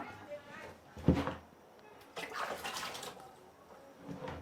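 Water fetched with a coconut shell from a clay pot is poured over the body during a herbal spiritual cleansing bath: a sharp splash, then a softer trickle, with a person speaking.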